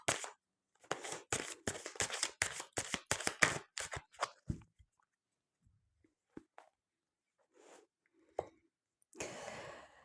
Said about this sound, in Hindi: और देख लेती हूँ मैं 2-3 कार्ड लेके।